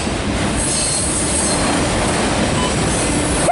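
A CSX loaded autorack freight train hauled by an SD50-3 locomotive rolls past close and loud, with a steady roar of wheels on rail and a brief high squeal near the end.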